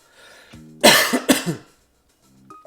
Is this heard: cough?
yes